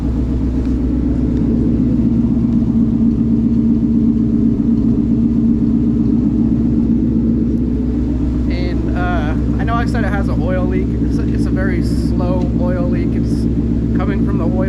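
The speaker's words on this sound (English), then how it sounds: "It's how it sounds when you upgrade the exhaust." A 2013 Ford Mustang GT with an upgraded exhaust idles with a deep, steady burble, loud and close throughout, while someone talks over it in the second half.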